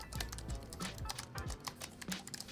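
Soft, muted keyboard typing with a steady patter of quiet key presses, close by and with no talking.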